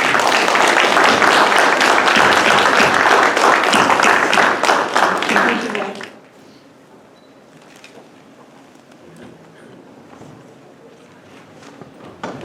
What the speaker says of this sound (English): So one final round of applause for the whole group.